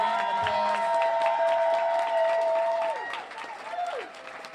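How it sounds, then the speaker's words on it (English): A crowd at an election primary night event applauds volunteers with steady, sustained clapping, under a held tonal hum that fades near the end. "let's give them a big round of applause."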